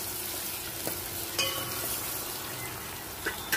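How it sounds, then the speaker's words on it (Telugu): Green chillies and turmeric tempering in hot oil for a palak curry make a steady close sizzle, with a few faint clicks of a spoon stirring against the pan. "దీనిలోనే ఈ పచ్చిమిరపకాయలు, చిన్నులకాయలు, కొంచెం పసుపు కూడా ఇప్పుడు వేస్తాను."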